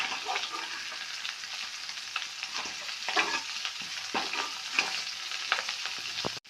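Thin-sliced potatoes frying in coconut oil in a pan, a continuous crackling sizzle with scattered pops and light spatter, close and moderately loud, with no talking.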